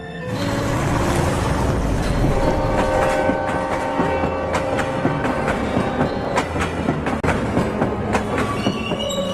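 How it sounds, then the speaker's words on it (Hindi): A train runs steadily along rails, loud and continuous, with wheel rumble, clickety-clack and metallic squeal, alone without voices. "ट्रेन हवा से बातें करती हुई उनको गांव के स्टेशन पर पहुंचा देती है"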